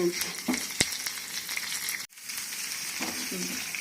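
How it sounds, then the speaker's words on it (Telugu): Crushed garlic frying in oil in a pan for ridge gourd chutney, a steady close sizzle with one sharp click and a brief dropout midway before the crackling resumes. "ఇది ఫ్రై అవుతుంది కదా, దీంట్లో వెల్లుల్లిపాయ దంచాను."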